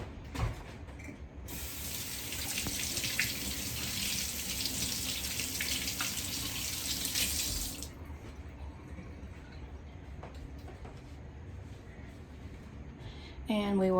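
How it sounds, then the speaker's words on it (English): Kitchen tap runs as hands are rinsed under it, a steady rushing spray for several seconds before shutting off into quieter room noise. "Let me rinse off my hands real quick."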